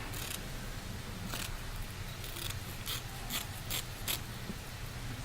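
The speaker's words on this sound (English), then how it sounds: "The biggest circle you can cut on your fabric there." Scissors snip a large circle through four stacked layers of fabric for handmade scrapbook flowers, giving a run of close, crisp cutting clicks over a steady low background hum.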